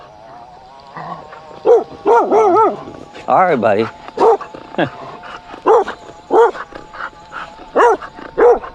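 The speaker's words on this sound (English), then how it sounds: "Here comes a dog." A dog barks and yips in short, loud bursts close by, with a few whimpers mixed in, while a person talks over it.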